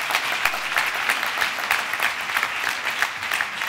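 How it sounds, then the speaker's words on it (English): An audience claps for a speaker at an institute event, steady close applause with individual claps audible in an even rhythm throughout. "Please give him a round of applause for hosting us today"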